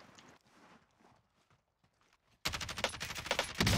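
Sniper gunfire in Call of Duty Warzone: faint, sparse distant pops and footstep-like thuds, then a sudden loud burst of rapid shots that continues to the end.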